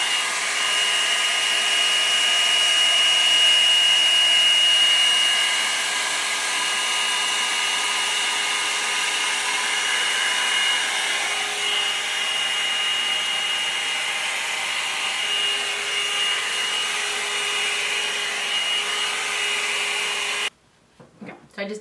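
Foxy Bae hair blow dryer running on its highest speed, a loud, steady close-up whoosh lasting about twenty seconds before it cuts off abruptly at the end.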